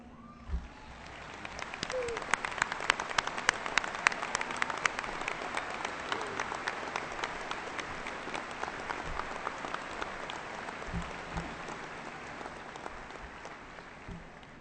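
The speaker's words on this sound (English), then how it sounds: "accept our appreciation through applause" A graduation audience applauds Mr. Crane at a 2014 high school ceremony, a sustained, dense wash of many hands clapping that holds steady for about fifteen seconds, with a few cheers rising briefly early on.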